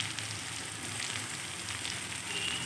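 Onions and chopped tomatoes frying in a pan, a steady close sizzle and crackle that holds evenly throughout with no voices.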